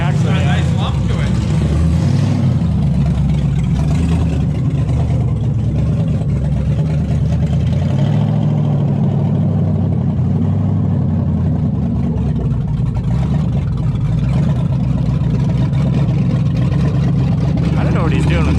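A naturally aspirated Ford Mustang running with no exhaust fitted gives a loud, deep, steady idle rumble close by, with a lumpy, uneven low throb and voices talking over it.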